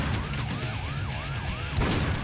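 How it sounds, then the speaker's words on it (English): A police-style siren wails inside the music of the video game Painkiller: Hell & Damnation, its pitch rising and falling several times over a dense, loud soundtrack. "There's, like, police sirens in this music."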